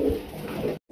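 A male Raj Golla pigeon coos close by, a low continuous throaty murmur lasting most of a second before breaking off into brief silence and resuming.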